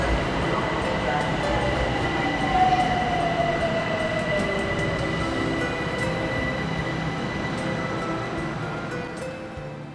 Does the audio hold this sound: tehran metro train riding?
yes